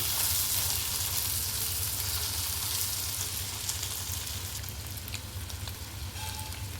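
Ridge gourd curry with coriander stirred in a hot pan gives a steady, close sizzle of frying throughout, with no voices.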